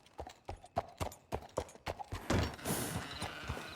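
Horses' hooves clip-clop in Red Dead Redemption, a steady run of sharp, close hoof strikes for a few seconds before a louder, noisier mix of movement takes over.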